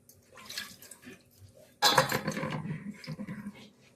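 Goat trotters being washed one by one in water make soft splashes and trickling at first, then louder sloshing and clattering in a pot or basin, close and intermittent.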